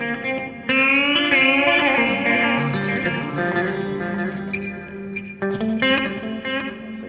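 An electric guitar plays through the ambient reverb preset of a Headrush Prime effects unit, its sustained chords and notes washing into a long, shimmering tail, loud and close.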